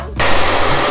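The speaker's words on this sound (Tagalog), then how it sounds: "Yun, blower na lang kami." A hair dryer kicks on abruptly at close range and blows a loud, steady rush of air while finishing a dreadlocks repair.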